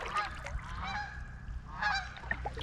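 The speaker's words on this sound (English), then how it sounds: "There's the geese, man." Several geese honk repeatedly at close to moderate range, their calls overlapping in bursts over a steady low background rumble.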